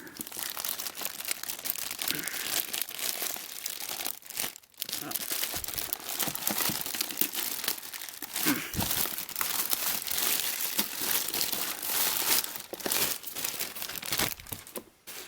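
Packaging of an Andre the Giant action figure being opened, with dense, close crinkling and occasional tearing of plastic and card that continues nearly without pause, while a person talks now and then.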